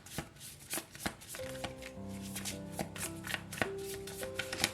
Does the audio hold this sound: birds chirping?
no